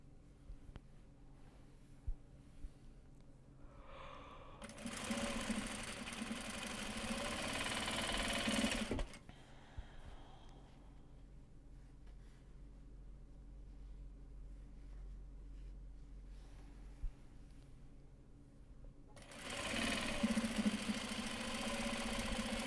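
Sewing machine running in two bursts while stitching a pocket into a Japanese fabric project bag, a steady whirring hum of a few seconds each, close and fairly loud over a quiet room with a low background drone.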